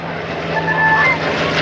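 A steady engine drone rumbles by, WWII propeller fighter planes, an F4U Corsair and a Curtiss P-40 Warhawk, passing overhead at a distance at an airshow, with a faint whine rising and fading.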